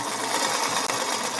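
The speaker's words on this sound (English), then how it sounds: "while I sew this, I've got this little stack here to sew" A sewing machine stitches fabric with a steady, close, whirring drone that runs unbroken apart from one tiny dip.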